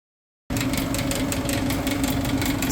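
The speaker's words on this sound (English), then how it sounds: "we've got an exhaust fan that we're replacing. The whole thing is out of balance." A rooftop exhaust fan runs out of balance, giving a steady, loud mechanical drone with a low rumble and a faint rhythmic throb that starts abruptly after a short silence.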